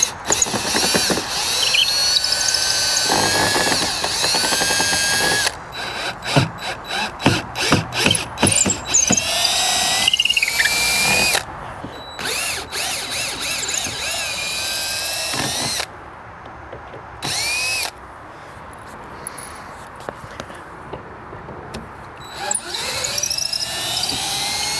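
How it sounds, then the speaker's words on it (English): Cordless power drill backing temporary screws out of a wooden boat toe rail, with repeated whirring bursts, ratcheting clutch clicks and short gaps between screws, heard up close and loud with no voices. "I'm going to pull all of the temporary screws that I just put in to hold that tow rail"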